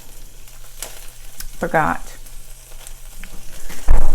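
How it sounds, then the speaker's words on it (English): A grilled cheese sandwich with pulled pork sizzles and crackles cheese side down in a hot pan at close range, while a person speaks briefly over the frying. "And you can hear it just sizzling."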